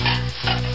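Chopped onion added to chicken fillet sizzles loudly in a frying pan for homemade shawarma filling, with two scraping stirs of a utensil over the steady hiss.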